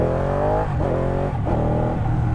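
A Ducati Panigale 899 motorcycle with stock exhaust revs loudly up close, its exhaust note rising and dropping through a couple of throttle blips with a steady rough drone.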